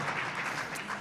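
Sustained audience applause fills a panel session at a governor's water summit, a dense wash of many hands clapping steadily at moderate level with no talk over it.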